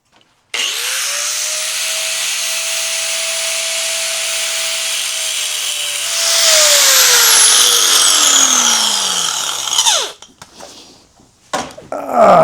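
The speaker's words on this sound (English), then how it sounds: "let's do it with a cut-off wheel." An abrasive cut-off wheel grinds through a steel bar with a loud, sustained high-pitched screech. The wheel's whine holds steady, then drops in pitch as the cut finishes and the tool spins down, followed by a few clanks.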